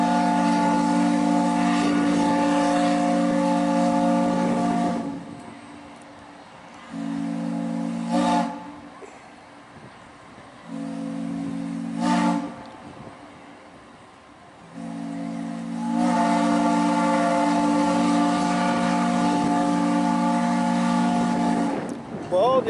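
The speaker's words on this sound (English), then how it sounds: "Final warning whistle." The American Queen riverboat's deep, multi-toned steam whistle sounds a final warning in several long blasts separated by short gaps, loud and echoing, with quieter background between blasts.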